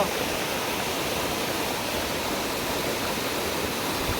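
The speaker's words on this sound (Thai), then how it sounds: "น้ำตกก็แค่นี้เลย ไม่มีอะไรมากนะ" A small waterfall in a Thai forest roars in a dense, steady wash of falling water, loud and close, with no voices over it.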